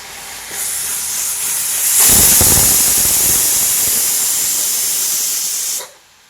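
A pressure cooker whistles while chicken cooks for samosa filling, a loud sustained hissing steam blast that swells after a short start, holds steady for several seconds, then cuts off abruptly.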